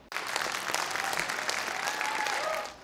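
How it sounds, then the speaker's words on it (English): Sustained applause from a large audience greeting Ambassador Yovanovitch after her testimony, a dense steady clatter of clapping hands that fills the whole stretch at even loudness. "the applause and standing ovation for Ambassador Yovanovitch following her testimony"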